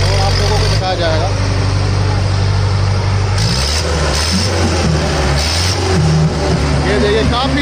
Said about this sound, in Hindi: ये देखिए काफी पिकअप दिखा रहा है ट्रैक्टर